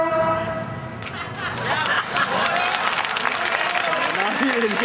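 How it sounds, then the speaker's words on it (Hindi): An audience at a kavi sammelan poetry recital applauds in a loud, dense patter, mixed with crowd murmur and voices that carry on throughout. "इतनी कमजोर तालियां मत बजाना"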